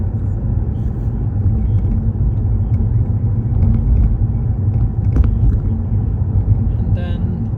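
Automatic car rolling forward at about 20 mph through a 20 zone on a driving test route, a steady low road and engine rumble heard from inside the cabin, with a brief faint chirp near the end.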